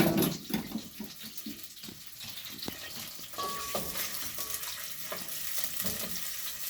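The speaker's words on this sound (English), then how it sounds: "you're going to fry them the normal way you fry" Tomatoes frying in a pan, a soft continuous sizzle with watery hiss and occasional stirring clinks, fairly quiet and steady throughout.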